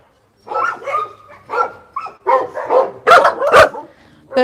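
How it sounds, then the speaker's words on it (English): Dogs on a South Korean dog meat farm bark loudly and close by, a rapid series of sharp barks and yips with brief pauses between them. "these are two more beautiful dogs"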